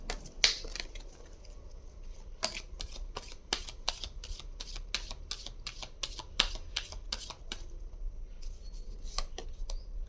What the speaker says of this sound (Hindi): मैं एंजल से कुछ कार्ड्स ले लेती हूँ।